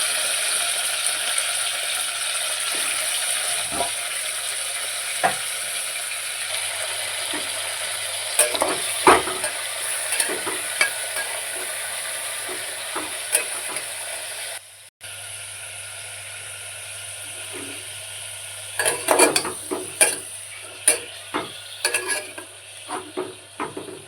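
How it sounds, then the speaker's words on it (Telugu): Chicken frying with green chillies for chicken sherva sizzles steadily and close throughout, with scattered utensil clinks and scrapes against the pan and a brief break partway through. "ఇప్పుడు పచ్చిమిర్చి అనేది కూడా కొంచెం వేగింది కాబట్టి చికెన్ వేసుకుందామండి."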